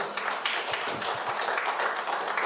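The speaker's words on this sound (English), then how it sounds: "Brothers, again, a round of applause to my brother Joel." Audience at a community history month celebration gives a round of applause, moderately loud, somewhat uneven clapping from a modest crowd lasting a couple of seconds.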